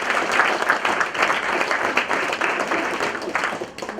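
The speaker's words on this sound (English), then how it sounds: "So, round of applause for you all." A dense, steady round of applause fills a jazz club crowd at a live trio performance, many hands clapping together at a fairly loud, even level that eases slightly near the end.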